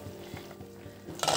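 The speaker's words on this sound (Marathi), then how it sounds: "इथे पुलावला उकळी येत आहे" Soybean pulao bubbles in a covered pot on a gas burner at high flame, giving a soft, low simmering sizzle with faint thumps, then a brief brighter rattle at the end.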